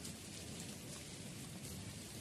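Unseasonal rain pours down on an outdoor setting near mango trees, an even, continuous hiss of drops on surfaces, moderately faint yet steady from start to finish.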